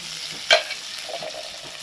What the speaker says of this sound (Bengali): এক টুকরো আদা এবার গ্রেট করে লাইভ ভাজা হচ্ছে